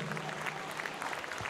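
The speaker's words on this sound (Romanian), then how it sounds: "Aplauze, aplauze, aplauze." Audience applause at a televised celebration event, a brief burst of crowd clapping heard steadily at a moderate level with a little background murmur.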